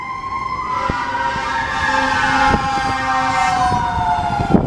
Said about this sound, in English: Ah, and there are sirens.